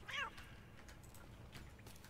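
A cat meows briefly and close at the start inside Baldur's Gate 3, a short high cry followed by quiet game ambience.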